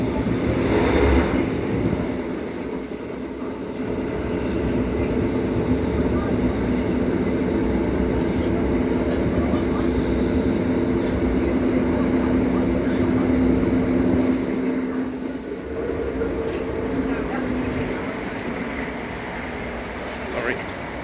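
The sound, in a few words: Southeastern Class 707 train running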